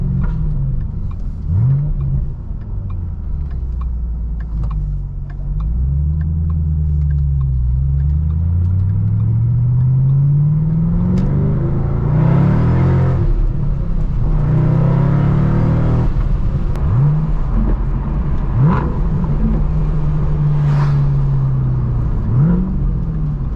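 A 2014 Shelby GT500 fitted with a Borla ATAK exhaust revs repeatedly, its deep engine note rising and falling in several sweeping blips over a steady loud idle, with a sharper burst midway.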